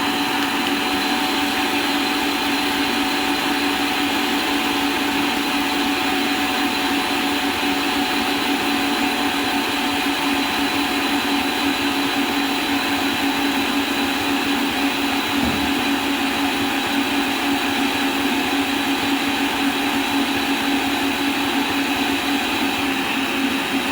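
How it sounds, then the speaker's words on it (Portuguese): An electric stand mixer beats batter for a heart-shaped Valentine's Day cake, its motor humming loud and steady without a break, with a brief dip in tone partway through. "vou misturar aqui na batedeira"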